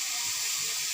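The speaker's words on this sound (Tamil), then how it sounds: "தண்ணி கொஞ்சம் ஊற்றி வேகட்டும்." Water poured into a pan of cooking cluster beans, a steady close hiss of liquid running in, alone and continuous.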